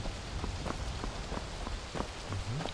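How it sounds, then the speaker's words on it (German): Steady rain in the video game The Elder Scrolls V: Skyrim patters densely on a surface, with a few soft, heavier drops standing out now and then. "Oh, es regnet."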